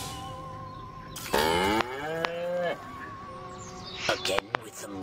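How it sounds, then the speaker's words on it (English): A cartoonish cow in the video game Destroy All Humans gives a loud drawn-out moo with a falling pitch, clear over game ambience and music, followed by brief clanks near the end. "Again with the moo."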